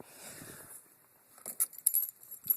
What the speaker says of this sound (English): Grab my keys.